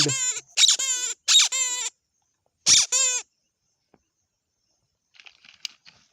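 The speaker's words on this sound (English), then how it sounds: "Parrot is making sound." A toy parrot gives several short, high electronic chirping squawks in quick bursts, then falls quiet, followed by faint rustling.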